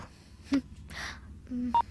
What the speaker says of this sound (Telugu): నీకేదో మెసేజ్ వచ్చింది చూడు.